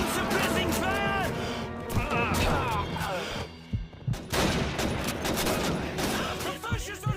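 MG-42 machine gun fire in Call of Duty 2, with loud sustained bursts and crashing impacts through a war scene while soldiers shout over the gunfire.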